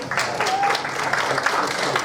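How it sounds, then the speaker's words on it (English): An audience claps heartily in a steady, close wash of applause, with faint voices mixed in underneath. "Give him a big round of applause"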